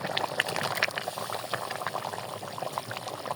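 Broth and soaked potatoes go into a pot of simmering chicken curry with bubbling, splashing liquid sounds, moderately quiet and continuous, with no voices.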